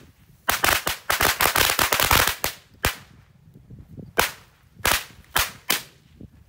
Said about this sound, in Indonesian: Sudah menyala mercon korek 3 tor.